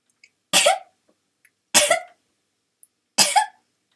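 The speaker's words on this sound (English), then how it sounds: "Yes, I coughed like a baby." Three separate coughs, evenly spaced about a second and a half apart, close and fairly loud, each a short harsh burst with nothing else around them.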